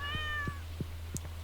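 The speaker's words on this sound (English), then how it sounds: "Oh, look at my two cats again." Two cats in the farming game Stardew Valley meowing in a steady series of four short, clear meows over a low constant background hum, with a brief chime partway through.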